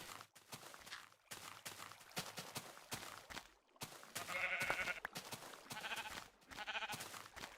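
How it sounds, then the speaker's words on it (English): Sheep in Minecraft bleat several times as they are hit, short wavering cries that come in bursts over clattery steps and game noise, fairly quiet and not masked by talk. "I wanted to bury the sheep, but hitting it works just as well, I guess."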